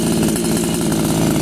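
A Ruris Expert 451 chainsaw idles during break-in, run without chain or bar, giving a loud, close, steady rattling two-stroke putter with a fast even pulse.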